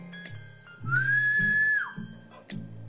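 A single sustained electronic whistle tone rises, holds for about a second and drops off, simulating a pressure cooker whistle on a DIY smart induction stove, with low beeping tones before and after.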